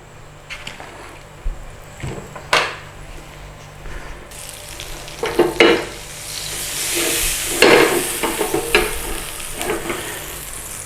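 Butter sizzling in a cast iron pan, with scraping and stirring clatter and bursts of crackling frying that grow louder partway through, and no talk.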